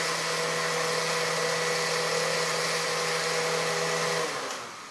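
Blender on a very low setting whisking egg for hollandaise, a steady close motor whir running alone for about four seconds before slowing and fading at the end.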